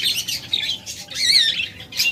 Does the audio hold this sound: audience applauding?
no